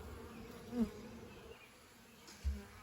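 Bees buzzing near an open feral hive, a soft steady drone with a couple of brief louder passes close by.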